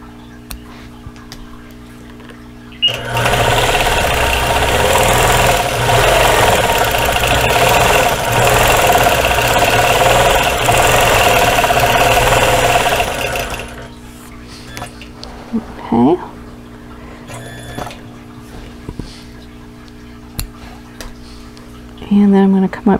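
Sewing machine quilting a Dresden Plate block with white thread, a steady close mechanical whir and rapid needle ticking for about ten seconds, then stopping, followed by scattered handling clicks and brief taps.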